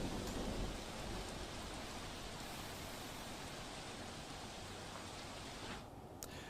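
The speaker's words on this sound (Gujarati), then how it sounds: "ક્વાટ પંથકમાં ગાજવીજ સાથે ધીમી ધારે વરસાદ વરસ્યો છે।" Rain falls steadily during a storm in Gujarat, a dense, even hiss of drops close by with a faint low rumble beneath, no voices, ending in a brief dip and a sharp patter.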